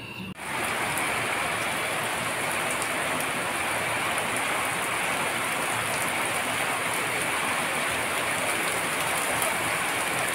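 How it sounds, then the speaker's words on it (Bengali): Heavy rain pouring down outdoors, a loud, dense and unbroken roar of drops that starts abruptly and holds steady throughout. "বৃষ্টি খুব জোরে, বৃষ্টি নেমে গেছে খুব জোরে"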